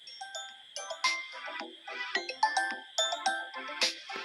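A phone ringtone plays a bright, chiming melody of quick repeated bell-like notes, fairly loud and clear with no voices over it.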